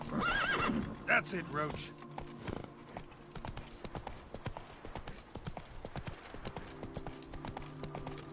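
Horse hooves clip-clop steadily while a horse neighs and whinnies near the start, ridden in The Witcher 3 video game, with someone talking over the galloping and game music.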